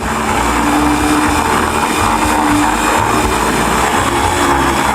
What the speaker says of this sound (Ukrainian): Тепер засипаємо кожен кольор у блендер і перемішуємо.